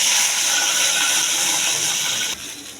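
Water poured into a hot pan of catfish, cauliflower, potato and cumin sizzles with a loud, steady broadband hiss that drops off sharply near the end.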